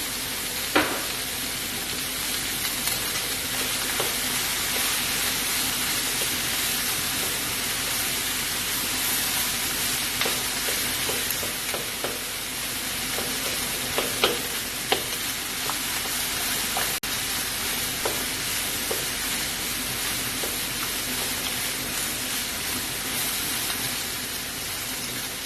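Beef, broccoli and garlic sizzle steadily in a Szechuan stir fry, a constant loud frying hiss with occasional crackles and pops throughout.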